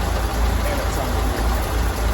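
A 1932 Ford Model B engine runs at a steady idle, a continuous low rumble with broadband mechanical noise, close and fairly loud, while someone speaks over it.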